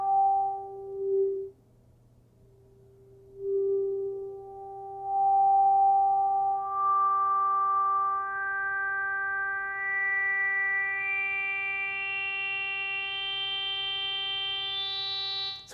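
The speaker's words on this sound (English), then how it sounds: "You can hear the overtone series of each partial as I go down." A synthesizer with a resonant filter sweeping up through the overtone series, each partial stepping in as a pure sustained tone that climbs in pitch over a steady low drone, with no voices.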